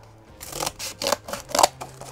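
Scissors snip through a strip of brown cardboard in five or six crisp, evenly spaced cuts, close and loud with no voices.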